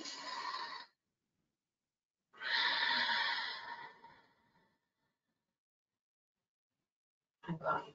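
Two slow, deep breaths during a guided breathing-opening exercise, close and airy, each followed by a long silence, with a short breathy sound at the very end.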